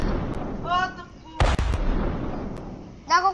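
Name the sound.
cannon fire in a video game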